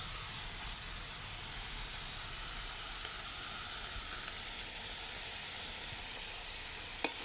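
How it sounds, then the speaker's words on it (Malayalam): Curry leaves and brinjal sizzle steadily as they sauté together in a hot oiled pan, a continuous close frying hiss with no talking. "എല്ലാം കൂടെ വഴറ്റിയെടുക്കണം."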